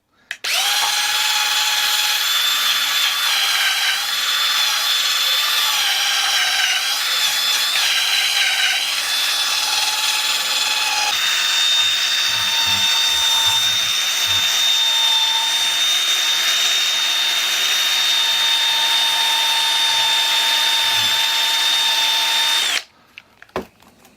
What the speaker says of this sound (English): I've got a couple of wire brushes that are on a drill bit here